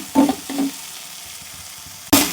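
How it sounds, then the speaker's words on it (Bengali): Sago and sweet potato frying in ghee, with short bursts of sizzling and stirring, two brief ones early and a louder one at the end, over a quiet background. "এইভাবে সাবুটা আর লাল আলুটা আমি ঘিয়ের মধ্যে একটু ভেজে নিতে হবে।"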